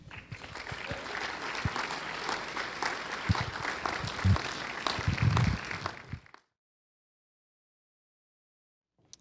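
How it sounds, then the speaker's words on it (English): Guests at a 2019 community well banquet clap to welcome speakers, a full room of steady applause with a few louder nearby claps, running about six seconds before cutting to silence. "So please clap your hands and welcome them."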